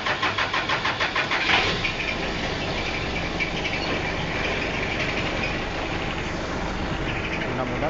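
A Metic diesel forklift engine cranks with a rapid chugging starter rhythm, catches, then settles into a steady rough idle, with crickets chirping in the background.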